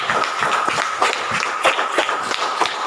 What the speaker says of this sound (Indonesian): Ibu tepuk tangan sekali lagi.